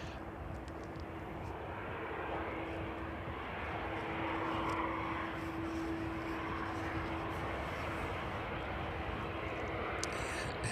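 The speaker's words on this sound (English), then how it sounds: "Our next aircraft to arrive is the West Atlantic 737." A West Atlantic Boeing 737 jet arriving at East Midlands Airport, a steady distant engine roar with a sustained whine, building slightly as it approaches.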